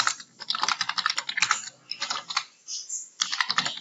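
Fast, steady typing on a computer keyboard, with bursts of close, crisp key clicks separated by brief pauses and no talking.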